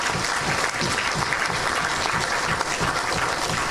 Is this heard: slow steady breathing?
no